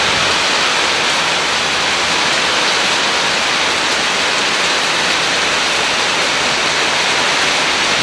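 Heavy rain pours down in a dense, loud, continuous hiss with no breaks.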